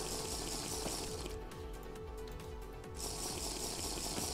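Water bottles filling with water in the video game Forever Stranded, a steady loud gushing stream with a rapid mechanical pulsing underneath and a short dip midway.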